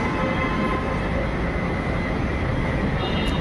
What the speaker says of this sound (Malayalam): അവിടുന്ന് മെട്രോ വരുന്നുണ്ട്